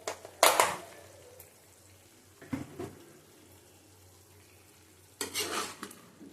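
Potato and pumpkin curry seasoned with a little turmeric is sautéed in a pan, heard as quiet, low background hiss with three separate short bursts of scraping and stirring spaced a few seconds apart.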